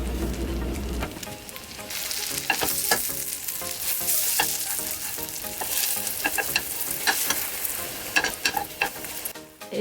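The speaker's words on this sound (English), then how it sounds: "Put your little burrito in and just let it brown up a little." A folded burrito sizzles and fries as it browns in a pan, with a constant crackle and scattered sharp pops and spatters throughout, close and fairly loud.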